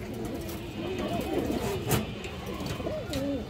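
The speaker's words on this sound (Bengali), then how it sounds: "সিলভার মাদি কবুতর আছে" A silver female pigeon coos in soft, repeated wavering phrases, close by, over a steady background hum and faint talk.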